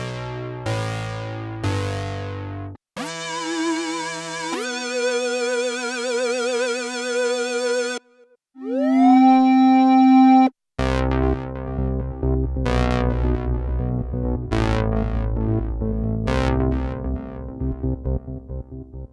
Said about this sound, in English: Lots of those great, rich, big-sounding JX3P sounds are right here in the JX03.